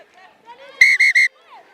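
Referee's whistle at a women's rugby match, three short sharp blasts in quick succession, clear above faint crowd and commentary.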